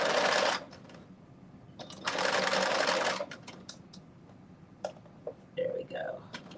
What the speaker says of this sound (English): I am stitching my basting stitch in the seam allowance